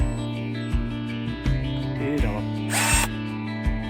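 A battery-powered pruning tool for a plum tree runs with a steady motorized whine, punctuated by regular clicking pulses and a brief louder burst of higher mechanical noise near the middle.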